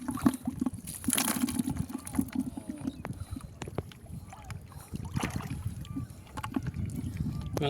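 Hilsa fishing boats working a village river in late afternoon, with steady low water and engine rumble, splashes and knocks, and people talking intermittently in the background throughout.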